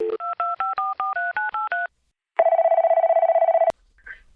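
A telephone number dialed on a keypad for a podcast call: a quick series of about nine clear DTMF tone beeps, then a steady tone that stops abruptly, followed by faint noise.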